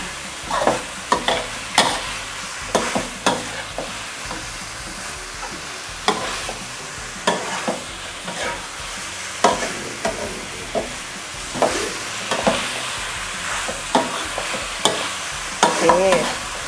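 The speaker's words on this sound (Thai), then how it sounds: "เราจะผัดให้พอโหระพาสลบนะคะ" Repeated scraping stirs and clatters of a spatula in a pan over a steady oily sizzle as basil is stir-fried for spicy clown knifefish, irregular strokes every second or so, close and with no talk.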